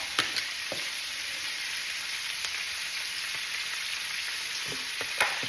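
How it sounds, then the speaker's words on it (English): Steady, loud sizzling of cabbage frying in a very hot pan, a constant crackling hiss with a few sharper pops. "Can you hear that sizzle? Because I have the heat up so high."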